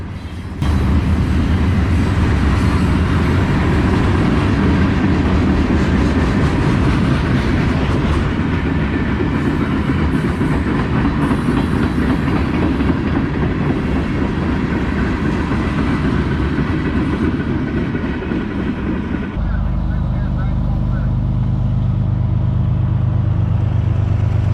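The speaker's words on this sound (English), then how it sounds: "we'll sit here at Amki Depot, watch this train roll by" CSX freight train rolling past a depot, a steady loud rumble of wagons and clattering wheels sustained for over twenty seconds close by, shifting to a lower drone near the end as the cars keep passing.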